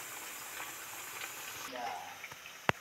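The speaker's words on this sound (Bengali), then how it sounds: "এই জন্য আমি একটু বেশি তেলেই ভাজছি" Spinach pakoras deep-frying in plenty of oil give a steady, moderate bubbling sizzle close by, with a few soft stirring sounds and a sharp click near the end.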